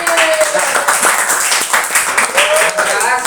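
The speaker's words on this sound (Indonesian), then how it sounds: "Berikan tepuk tangan." Children clap their hands in a classroom: a brisk, uneven patter of many claps mixed with overlapping voices.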